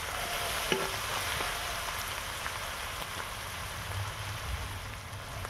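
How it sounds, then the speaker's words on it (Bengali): Spices frying in a pan for Bengali kabuli chickpea ghugni, a soft, continuous sizzle with faint stirring scrapes, steady and fairly quiet throughout. "এই সমস্ত উপকরণগুলো ভালো করে মশলাগুলো ভালো করে কষিয়ে নেব।"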